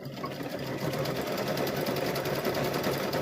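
A sewing machine stitches a blanket stitch along the edge of a quilted Halloween gnome wizard tote bag, a close, continuous steady whir without pauses.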